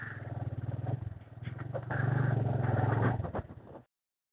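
A motorcycle is ridden up a mountain road to the trail start in Galiyat and parked. Its engine chugs steadily and close, revs briefly, then shuts off, leaving silence.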